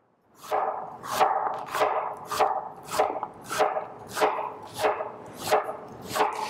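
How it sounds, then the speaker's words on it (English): A knife slices peeled butternut squash into quarter-inch rounds on a board, about ten even, steady cuts, each a crisp crunch ending in a knock, close and clear with no talk. "I'm just going to slice them about 1/4 inch thick."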